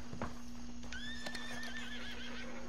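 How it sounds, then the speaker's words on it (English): A horse in the video game Red Dead Redemption 2 gives a long, wavering whinny over soft clip-clop hoofbeats, heard alone against a steady low game-ambience hum. "Horse, shut up."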